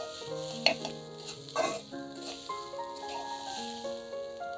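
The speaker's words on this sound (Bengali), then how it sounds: "চাউল ডাউলগুলো আমার ভাজা হয়ে গেছে।" Rice and lentils sizzle steadily as they fry in a pan for chicken bhuna khichuri, with a few louder stirring bursts, all under soft tonal background music.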